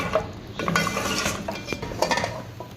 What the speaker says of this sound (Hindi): हम इसका चमचा चलाते रहेंगे यखनी डाल के इसमें, ये अच्छे तरीके से मिक्स हो जाए।